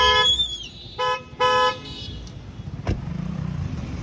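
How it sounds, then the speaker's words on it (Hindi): Three short Hella car horn honks on a Tata Nexon sound in quick succession, followed by a thud and the low rumble of traffic nearby. "और हॉर्न भी लगा"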